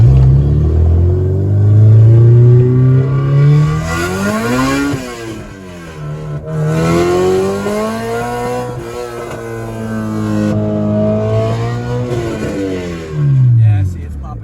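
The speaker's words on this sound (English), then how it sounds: "Probably just do a second to third gear pull." A K24-swapped car engine revs hard through a second-to-third gear pull, rising and falling in loud sweeping pitch climbs with a brief dip between gears, while someone talks over it.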